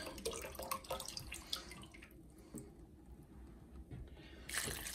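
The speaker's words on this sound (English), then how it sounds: "There's some more water going in" Water runs and splashes into a pot of vegetable soup with tinned tomatoes in an uneven stream with soft clinks, fading briefly before another gush near the end.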